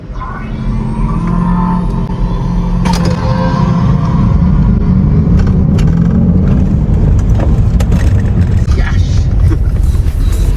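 Mercedes-AMG EQS 53 electric car launching hard from standstill, a loud, steady rush of road and tyre noise with a low whine building for about ten seconds, no engine note.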